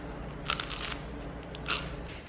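Two faint crunchy bites, one near the half-second mark and another later, over a quiet steady background hiss.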